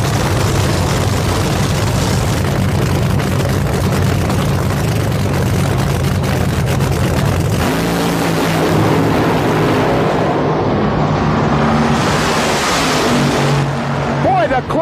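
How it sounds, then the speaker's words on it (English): Classic nitro drag race cars, the Hawaiian Punch and the Black Magic Thunderbird, run side by side down the strip at 250 mph, a loud, continuous engine roar that fills the whole stretch while an announcer talks over it. "Closest drag race of the day. What a great pass."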